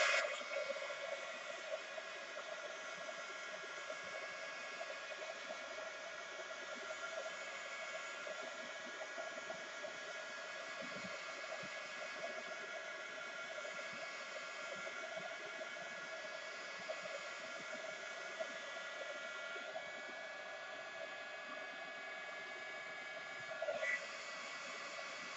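A heat tool blows a steady, hissing stream of hot air to dry glue on a card before embossing powder is applied, running continuously and fairly quietly with no talk.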